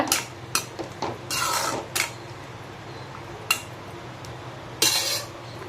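A spoon scrapes and clinks against a pan as salt is stirred into brinjal curry cooked with onions and grated coconut, giving short, close, irregular metallic scrapes separated by quiet gaps.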